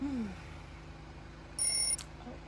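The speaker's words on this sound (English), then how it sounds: "There's the next alarm." A short electronic alarm beeps faintly indoors with high, bright tones lasting under half a second, set against a quiet low hum and an earlier brief gliding sound.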